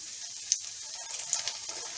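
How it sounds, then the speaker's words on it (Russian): Cottage cheese pancakes (syrniki) made with 2.5% fat cottage cheese fry in a pan, giving a quiet, continuous sizzle dotted with small crackling pops. "сырники с одной стороны обжарились, я их переворачиваю"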